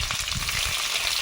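Chopped onion frying in oil for a fresh pond fish curry, a brief close burst of bright crackling sizzle with faint stirring thumps.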